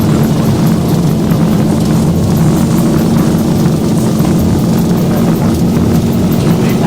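Boeing 737 engines at takeoff thrust in the X-Plane 12 flight simulator, a loud steady roar with a strong low hum and a broad rushing wash, constant throughout with no talk.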